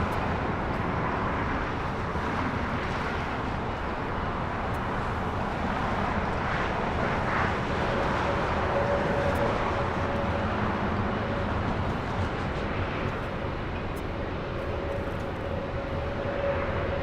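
A Japan Airlines Airbus A350 taxis at Los Angeles International Airport, a steady, broad jet engine rumble and whine holding constant for the whole stretch, with a faint higher tone emerging midway.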